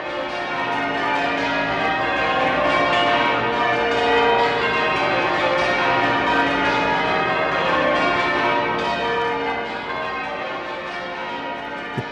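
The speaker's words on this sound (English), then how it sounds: "The pealing of bells, rather than the single bell tolling, has for centuries been used to mark a time of joy and celebration" Church bells pealing continuously in a full, ringing wash of overlapping strikes and sustained resonance, loud and unbroken for several seconds with no voices.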